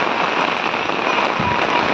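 Steady rain pours down in a dense, even hiss, with a faint low thump partway through and no voices.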